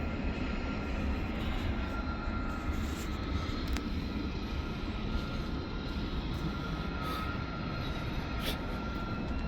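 A steady low rumble of a train running in the distance near the Queen Mary ship, continuous for the whole stretch with faint outdoor background, no voices.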